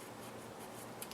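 A pencil scratches a short, faint mark along the edge of a French door, a soft dry rubbing stroke heard alone for about a second.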